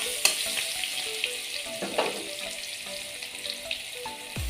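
Hog plums (amra) fry in a pan over a low gas flame, giving a steady, close sizzle with faint scattered pops and an occasional stir of a spoon, and no voices.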